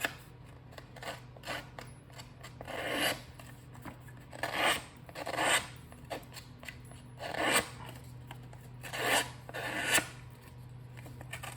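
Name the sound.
scissor blades used to distress card edges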